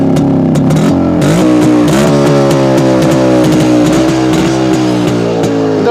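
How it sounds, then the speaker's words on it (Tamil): A restored Yezdi Roadking motorcycle with an FC current setup runs loud and close, its two-stroke engine revving up and down in uneven bursts with a strong, buzzy pitch. "ஸோ வண்டியோட பீட் எப்படி இருக்கு பாருங்க."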